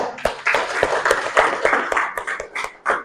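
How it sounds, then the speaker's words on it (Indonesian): A class of junior high students in an Indonesian classroom claps in short, uneven bursts of sharp hand claps, fairly close and lively, for a few seconds. "Nomor 2, tuh tepuk tangan dong"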